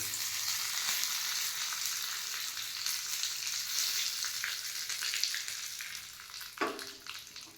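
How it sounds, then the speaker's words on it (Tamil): Curry leaves crackle and sizzle in hot tempering oil with mustard seeds, a dense, continuous hiss of frying with scattered pops close by, alone without talk. "ஆஃப் பண்ணிவிட்டு கருவேப்பிலை போட்டுக்கலாம்."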